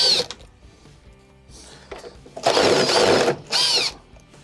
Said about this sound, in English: They're all T20 Torx screws. So start on one side and start to remove them.